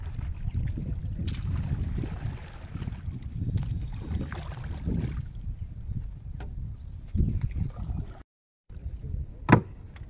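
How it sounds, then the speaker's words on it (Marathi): A small boat moves on open water, with low churning and splashing under gusty wind, a brief dropout near the end, then a sharp knock. "मस्त होडी चालवतात"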